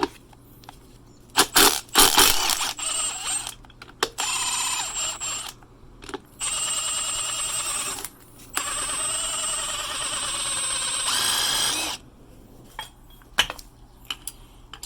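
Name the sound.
impact gun removing the nut on an Audi rear shock absorber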